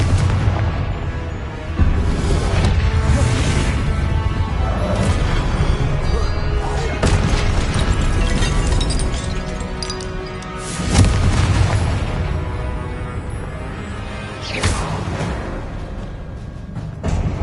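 Repeated booming spell blasts from the Confringo fire curse in Hogwarts Legacy on PlayStation 5, loud explosive thuds landing every few seconds over a dense, continuous bed of game music and combat noise.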